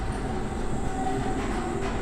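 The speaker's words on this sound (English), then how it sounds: "I'm going to take this tram and head over and activate the microfields" Rumbling ride aboard a tram in the sci-fi survival game Abiotic Factor, a loud, continuous rail drone with a faint tonal whine and no voices.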